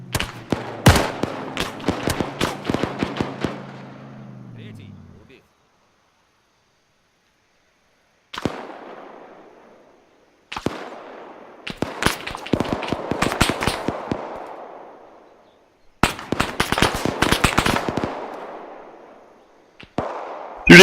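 Machine gun bursts in the ArmA military game, sharp rapid volleys repeated in several separated bursts with silent gaps between, fairly loud and close with no talk over them.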